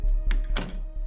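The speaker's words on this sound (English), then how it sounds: "Shut the door." A few dull thunks from doors being shut in the horror game Pacific, close and fairly quiet, spaced irregularly over a low steady hum.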